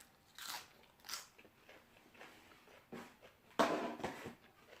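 Crunchy bites and chewing of fresh raw cabbage, eaten as a side vegetable with boat noodles, come in several close, moderately loud bursts with quieter chewing between them and no talking.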